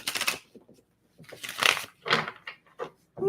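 Tarot cards are shuffled in short rustling, riffling bursts, close and fairly loud, separated by brief pauses.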